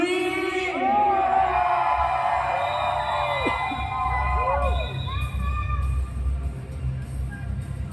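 A crowd in the Philippines screams and whoops steadily and loudly throughout, with a few high yells and shouts rising above the roar.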